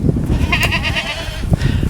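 Fat goats crowding in on a farm, several loud close bleats over a shuffling background, including a sharp cry near the start and another toward the end.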